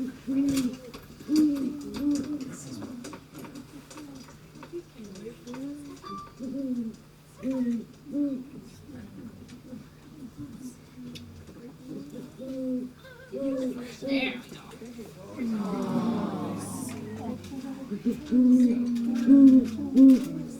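A captive owl at a birding festival gives repeated soft, low hoots in a rhythmic series, with scattered human voices and crowd noise around it.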